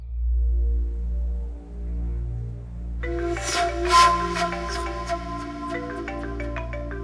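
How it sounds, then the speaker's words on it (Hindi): A phone ringtone plays a repeating melodic tune, loud and close, starting partway in after a low hum, with no one speaking. "ये भी क्या बार बार फोन करे चली जा रही है मुझे।"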